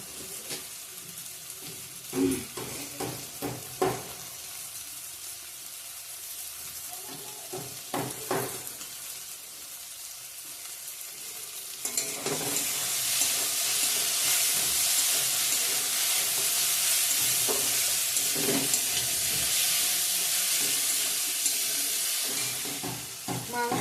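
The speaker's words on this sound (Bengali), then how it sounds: "মাছটা ভাজা করে নিই এখনো" Fish frying in a pan for a home-cooked country chicken giblet meal, with a steady bright sizzle that swells louder and denser halfway through, joined by occasional stirring clinks and scrapes early on.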